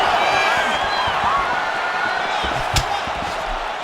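A roaring arena crowd reacts to punches in an EA Sports UFC 5 fight simulation, a dense, steady wash of cheering with a sharp impact-like slam near the end and a voice talking over it.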